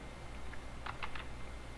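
A few quick keystrokes on a computer keyboard, soft and close against a faint room hum, in a short burst of clicks with pauses between them.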